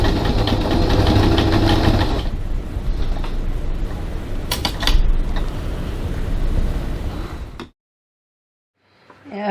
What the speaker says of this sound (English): Now we will go over to the sewing machine and baste that on using a 6 millimeter 1/4 inch seam.